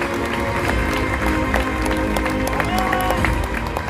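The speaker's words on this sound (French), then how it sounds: "Synchronisons nos applaudissements." Crowd applause and cheering fill a live outdoor Asterix-themed show, a dense steady wash of many hands clapping with some crowd noise and possible voices mixed in throughout.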